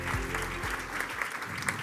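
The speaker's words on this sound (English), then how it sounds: "A round of applause." Audience applause at a student award ceremony comes as a fairly quiet, even patter of clapping, with low tonal hum and a voice murmuring underneath.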